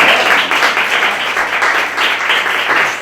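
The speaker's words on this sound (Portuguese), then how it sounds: "Podem bater palmas?" Audience applause at the end of a lecture on cosmopolitanism: a dense, steady burst of hand clapping from a roomful of listeners, fairly close and sustained for a few seconds.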